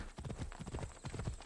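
Horse hooves clip-clopping in the video game Assassin's Creed Odyssey, a quick regular trot of clustered hoofbeats, faint and steady, without voices.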